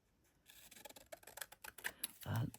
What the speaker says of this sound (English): So let's see whether my scissors are now sharpened.